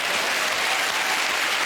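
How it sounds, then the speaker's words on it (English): A studio audience at a comedy panel quiz show claps, a dense, loud and continuous round of applause with no gaps. "Clapping."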